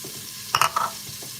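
Onions hit hot bacon fat in a pan and are stirred, a brief close burst of sizzling and scraping in the middle of an otherwise quiet stretch.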